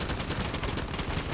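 Pistol shots ring out during an esports match of a tactical shooter on the Oregon map, a dense rapid volley of loud gunfire cracking without pause.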